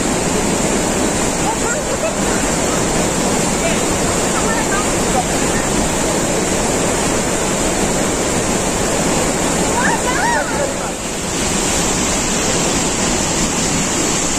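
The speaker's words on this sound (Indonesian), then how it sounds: "Sungai cukup deras" A fast-flowing river near Langkuik Tinggi waterfall in West Sumatra rushes loudly and steadily, a dense unbroken roar of water close by with faint voices briefly audible beneath it.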